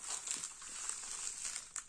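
A slightly crumpled poured-type diamond painting canvas being handled, giving a steady close crinkling and rustling throughout with a few sharper crackles near the end.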